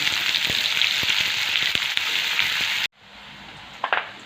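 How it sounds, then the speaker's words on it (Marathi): A large, finely chopped onion sizzles loudly in hot oil with a steady crackling hiss, then cuts off abruptly, leaving a few soft clinks and scrapes. "मोठ्या आकाराचा कांदा बारीक कट करून घेतला होता ना तो मी तेलामध्ये टाकून मस्त लाल रंगावरती परतून घेणार आहे"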